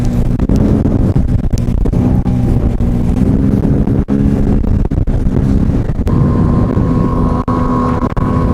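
Loud, steady roar of strong wind buffeting the microphone over a droning Tohatsu 9.8 outboard motor on a Flagman 330U boat heading upwind, constant throughout with brief gusty dips.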